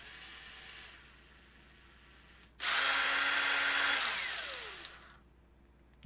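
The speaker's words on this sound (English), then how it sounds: "drill works great" A handheld power drill with adjustable RPM whirs up loudly for a little over two seconds, its pitch shifting as it spins down, with a quieter mechanical hum before and after.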